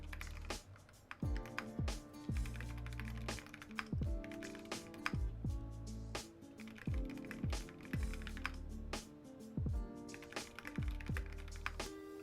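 Typing on a Greenwald Designs Waldo 60 mechanical keyboard: steady, close clacking keystrokes in irregular bursts, with thocky bottom-outs and occasional pauses, no talking.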